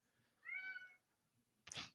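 A cat inside a car lets out one drawn-out meow, fairly clear over a low cabin hum, followed after a pause by a short louder noise.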